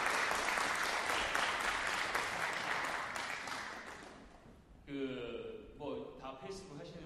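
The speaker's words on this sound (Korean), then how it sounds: "다시 한번 큰 박수 부탁드리겠습니다" Dense applause from a lecture audience at the opening of a Korean social culture college course, steady for about four seconds and fading, followed by someone speaking.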